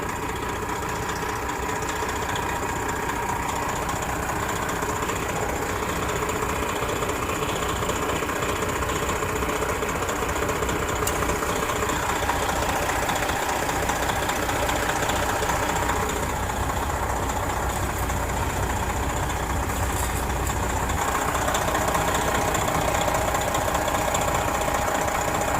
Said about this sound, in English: Now it's cycling that compressor on and off.